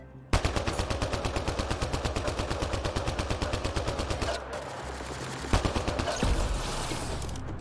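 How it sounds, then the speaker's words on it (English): Turret gunfire in the sci-fi game Mass Effect Andromeda, a long steady automatic burst of evenly spaced loud shots, followed by a brief pause and then more rapid fire. "A turret."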